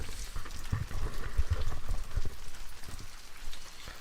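Rain falls steadily during a storm at the shore at high tide, a soft, irregular patter of drops on a surface with faint low rumbling beneath, moderately quiet and continuous.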